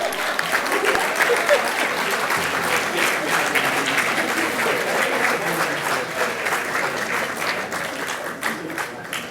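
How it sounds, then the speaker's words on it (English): Steady, full applause from an audience at an educational foundation awards ceremony fills the room, a busy texture of many hands clapping at an even level, with no speech over it. "let's have a rousing round of applause"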